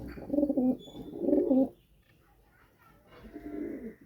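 Pigeons coo in close, throaty warbling phrases, two strong bursts followed by a quieter coo after a brief lull, with faint voices in the background.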